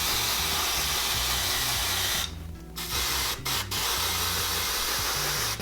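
L'Oreal Colorista hair color spray hisses from an aerosol can onto hair in a steady loud stream, broken by a short gap and two quick pauses, with a faint mechanical hum underneath.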